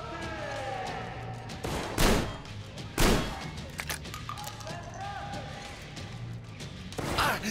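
Metro Exodus video game machine gun fire with a few heavy, sharp shots standing out among chattering bursts, while people talk over the action throughout.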